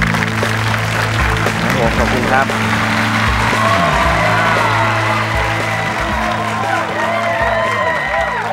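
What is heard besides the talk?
audience applause for the 3D fountain innovation owner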